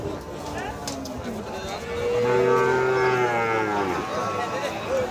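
Lean local cows at a Bangladeshi cattle market in Thakurgaon district give a long, deep moo amid steady crowd murmur and voices talking nearby.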